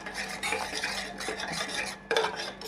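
Onion and tomato sauté in a pan with a pinch of salt, a continuous close sizzle under rhythmic scraping and stirring of a utensil against the metal, with one sharper clatter near the end and no voice.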